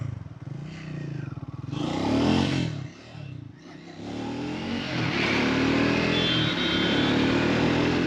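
A Triumph Speed 400 motorcycle accelerates hard in first gear, its engine note climbing loud and close after a brief clattering idle, then holding a steady high drone.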